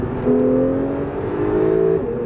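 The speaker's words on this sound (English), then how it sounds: "See, we'll downshift a couple times right here. We'll go to third, second." Porsche 911 Carrera S Cabriolet engine blipping as it downshifts to third and then second, two loud rising revs heard close from inside the car.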